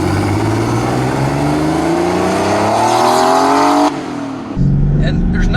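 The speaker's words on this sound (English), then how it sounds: "The sound of these 930s really sound about as good as anything" A Porsche 930 911 Turbo engine roars loud and close, its pitch climbing steadily under acceleration before cutting off abruptly, then settling into a lower rumble.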